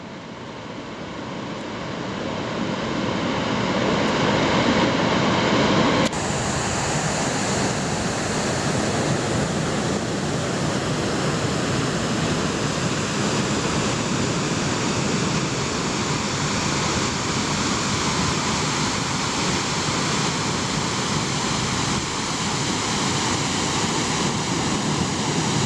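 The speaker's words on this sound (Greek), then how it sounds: "Νάτι οι καταράκτες, τους βρήκαμε." Waterfalls on a river in Guinea rush with a loud, dense, unbroken roar that holds steady throughout, with no voices.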